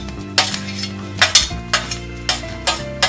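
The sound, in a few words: onion added to a hot pan, sizzling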